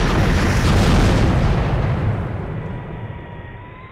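Four 500-pound bombs hitting a target in a joint fires air strike, heard as a huge, loud rolling blast that fills the air and then slowly decays into a long fading rumble.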